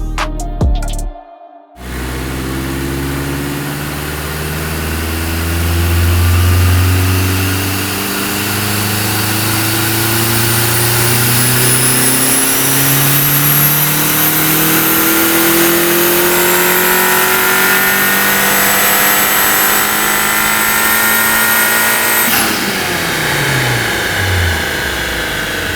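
A Mitsubishi Eclipse engine revs hard on a dyno, climbing steadily through the gears in long rising sweeps, loud and close, before it drops back abruptly near the end.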